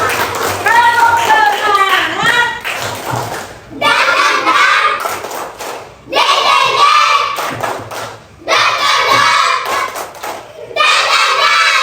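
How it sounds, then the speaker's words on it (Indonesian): A class of students at the end of a lesson claps hands together in loud bursts, several rhythmic rounds separated by short pauses, with children's voices and shouts mixed into each burst. "tepuk tangan untuk kita semua"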